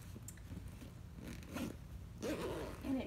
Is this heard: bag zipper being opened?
yes